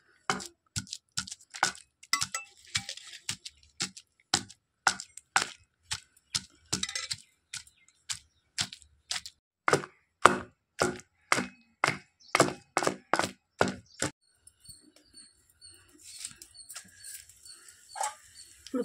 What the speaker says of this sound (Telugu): పచ్చి జీలకర్ర, సాల్టు, ఎల్లిపాయ, చింతపండు మెత్తగా మెదుపుకోవాలి, రోట్లో దంచుకోవాలి